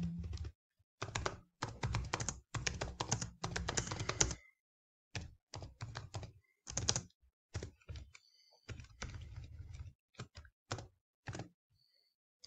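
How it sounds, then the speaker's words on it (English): Computer keyboard typing in quick, irregular bursts of close clicks and key taps, separated by short silent gaps, quiet and alone. "we have typed all the required things"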